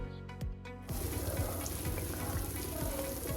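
Bread slices frying in hot oil for a sweet dry-fruit mava burger, a steady close sizzle that starts abruptly and keeps going, with soft bubbling and occasional light knocks.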